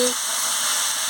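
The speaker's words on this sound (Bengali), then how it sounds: "আনাজগুলো মশলার সঙ্গে কষিয়ে নিচ্ছি" Vegetables with spices and salt frying in a pan for a fish curry, giving a steady, close sizzle and hiss that fills the whole moment without a break.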